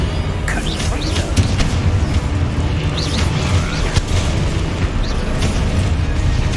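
Hogwarts Legacy gameplay with the Confringo spell going off amid dense, loud, continuous game audio: booming low rumble, bursts and scattered chirps.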